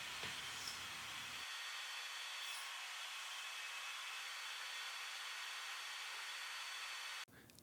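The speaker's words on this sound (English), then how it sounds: "we're going to move over to the crosscut sled and go ahead and cut out the tongue to fit perfectly in that groove" A saw with a crosscut sled cuts a wooden tongue for a cabinet, making a steady, high whirring whine that holds for several seconds before abruptly cutting off, faint and close, with no talking.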